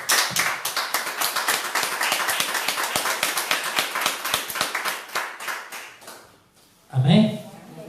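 A church congregation claps rhythmically during a live service, steady fast hand-claps for several seconds that fade out before a voice speaks at the end.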